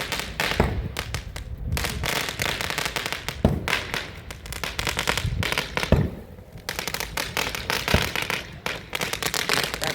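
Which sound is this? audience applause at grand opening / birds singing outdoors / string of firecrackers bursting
string of firecrackers bursting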